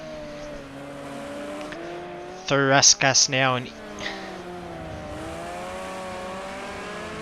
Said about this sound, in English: Or right on the rev limiter in third gear for for Chuck Racing. He's got that car singing.